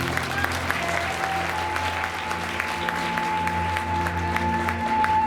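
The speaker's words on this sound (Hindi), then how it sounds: "इसे जोर से ताली करें।" Congregation at an Easter Sunday church service breaks into sustained, loud applause, a dense steady clatter of many hands with a faint tone and some voices mixed in.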